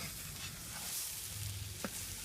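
Creamed corn stirred in a hot skillet pulled off the grill, a soft, low-level sizzle with faint scraping of the spoon and one brief sharper clink near the end.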